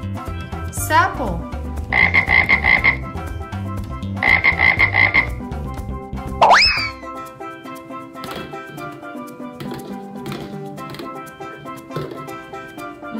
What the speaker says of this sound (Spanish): Sapo.